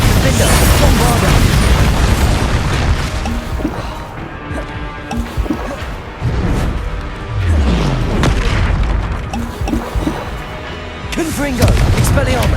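Spell blasts in the video game Hogwarts Legacy: loud, dense booms and bursts follow one another throughout a chaotic magic fight, with a voice shouting over the din.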